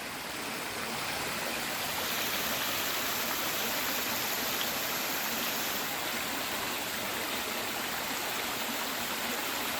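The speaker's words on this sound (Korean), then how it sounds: "이 물소리 좋지 않습니까 여러분?" Forest stream in a wooded park in Gapyeong, Gyeonggi province, flowing steadily as a dense, constant rush of water, close and even with no talking.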